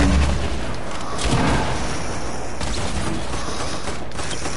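Video game firefight with grenade explosions and gunfire, a dense, loud stretch of booms and rattling shots running continuously throughout, with a heavier burst near the start and another around the middle.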